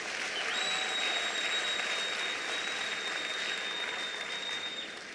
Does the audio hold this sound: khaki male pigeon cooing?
no